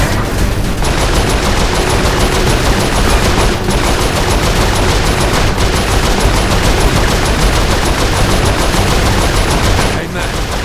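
A mounted turret fires nonstop in Saints Row IV, a loud, dense roar of rapid machine-gun fire with only a few brief dips.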